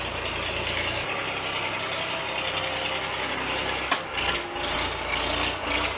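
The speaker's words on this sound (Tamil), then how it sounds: "பக்கத்து வயலில் நெல் போடுறதுக்கு மிஷின் உழுவுது. அதான் நிறைய சத்தமாக இருக்கு." Farm machine ploughing a neighbouring paddy field in a Jaffna village, Sri Lanka: a steady, loud engine drone with rasping, grinding texture, continuous throughout, with low rumble and a sharp knock partway.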